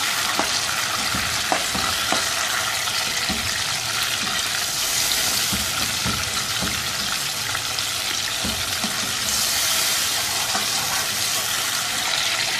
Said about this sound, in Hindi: टमाटर नरम पड़ चुके हैं, इनको ऐसे ही चम्मच की मदद से मसल लेंगे।